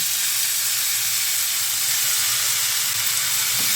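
Spinach dropped into hot oil in a pan, a loud, dense and continuous hiss of sizzling close by, unbroken for the whole stretch with no voices.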